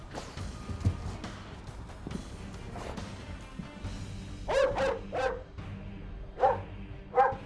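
A police dog barks at doors repeatedly, sharp and fairly close, in uneven bursts with short pauses, louder toward the end.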